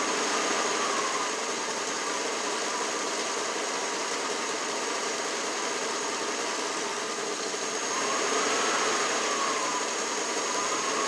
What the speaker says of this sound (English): If you can hear the engine